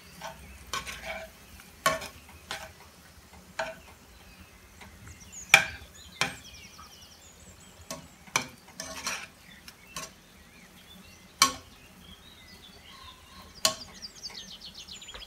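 Meat and spices fry in a pot for a tajine of kefta with peas, with a sharp metal spoon scraping and tapping repeatedly against the pan over a faint sizzle, close and irregular, with no talking.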